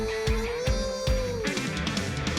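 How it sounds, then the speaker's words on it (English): Fast lick on a Leo Jaymz double cut electric guitar, a quick run of sharply picked notes with one sustained bending tone, played alone and clear at moderate volume. "I'll show that lick. It goes. So it's just an easy lick, but you go do it fast."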